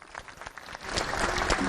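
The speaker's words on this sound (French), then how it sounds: "vous applaudissez encore." A crowd in a stadium applauds during a live event, the clapping starting thin and scattered, then swelling into a fuller, steady burst of applause heard from some distance.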